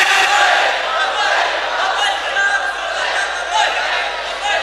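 A large religious gathering roars the slogan Labbaik in unison, a dense, continuous wall of crowd voices at full volume with no single speaker standing out.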